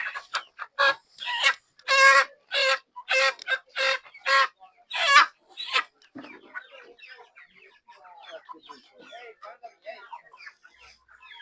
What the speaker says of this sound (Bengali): ভালো মুরগি অনেক আছে